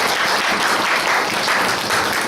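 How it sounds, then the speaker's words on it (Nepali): A church congregation claps together in welcome for visitors, a dense, steady burst of many hands that stays fairly loud and even throughout with no voices over it. "उहाँहरूको लागि हामी ताली बजाउँदै एकचोटि स्वागत छ"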